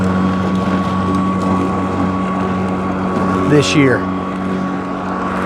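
A lawn mower engine runs steadily with a constant drone throughout, close and loud under wind noise, while a person talks briefly over it.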